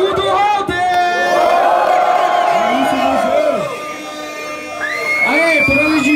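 A live crowd at a Brazilian rap battle, Batalha do Museu, cheers, whoops and shouts loudly and continuously, a sustained roar that dips briefly before swelling again.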